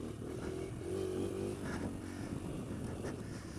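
Kawasaki KLX140L dirt bike engine with the throttle chopped, a low rumble settling toward idle with a brief tonal whine and some clatter, heard at moderate distance without talk.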